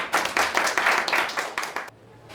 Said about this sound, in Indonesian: Tepuk tangan untuk Fajar Sriono.